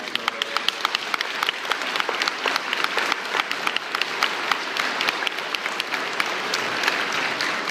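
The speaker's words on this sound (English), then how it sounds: "Can you stand up and can we give them an applause?" A luncheon audience applauds supporters of a children's charity, steady, fairly loud clapping with sharp individual claps standing out, sustained throughout.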